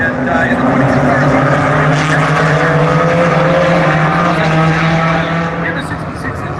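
Several mini stock race cars roar together during a heat race at Buxton Speedway, a loud, continuous engine drone with shifting pitch that holds steady before easing slightly at the end.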